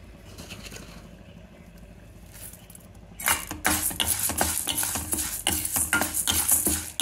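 Curry leaves, coriander seeds and cumin fry in a pan, a quieter sizzle that jumps louder after about three seconds, with steady crackling and bursts of clinking as a spoon stirs.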